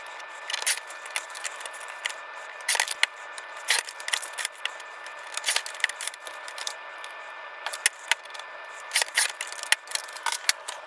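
Sharp scissors snip through glossy photo paper prints in close, irregular bursts of cuts separated by short pauses, with faint handling rustle and no talking.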